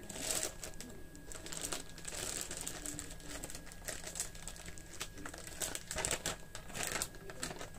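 A package from a police office is unboxed, its plastic packaging crinkling and rustling continuously up close with sharper crackles, no voices.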